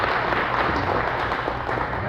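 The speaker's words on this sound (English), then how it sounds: "Everybody give a humongous round of applause for Adam." Audience applause at an event professionals' summit, a dense, steady wash of many hands clapping at close range that holds for about two seconds without letting up.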